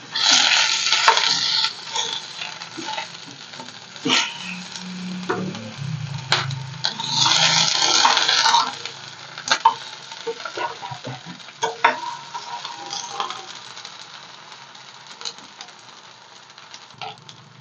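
Tomatoes fry in a pan for a spicy chutney, giving a steady close sizzle with scraping stirs and sharp clicks of a utensil against the pan, swelling louder in bursts and then easing off.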